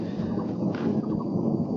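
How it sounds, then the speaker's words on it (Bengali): Thunder rolls over a hillside tea garden as a low, continuous rumble that swells and fades slightly, heard from a distance. "মেঘ ডাকছে এখানে"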